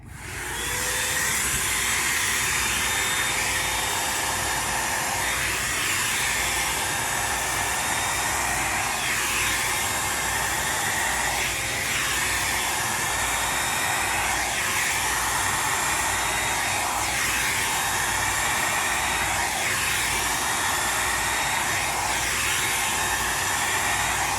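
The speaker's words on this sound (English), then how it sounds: "I have about 10 hair dryers connected to this thing" Roughly ten hair dryers blow together in a steady, loud broadband whoosh with a faint whine, holding constant for the whole stretch with no voices.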